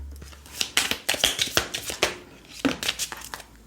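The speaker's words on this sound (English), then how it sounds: "I'm going to now shuffle this deck and I'll show you the cards that are jumping." A deck of tarot cards being shuffled up close, a series of quick crisp riffling bursts and soft slaps in an irregular rhythm, with no talking.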